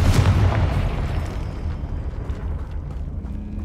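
A Confringo blasting spell explosion in the Hogwarts Legacy video game: a loud, close boom with a heavy low-end burst that decays into a crackling, rumbling tail.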